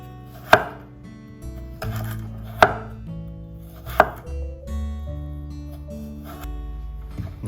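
Knife slicing squid thinly on a cutting board for calamari yakisoba, with four sharp chops spaced about two seconds apart, close and clear over a quiet kitchen background.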